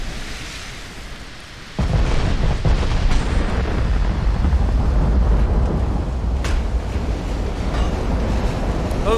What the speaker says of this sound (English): Oh, torpedoes! More torpedoes!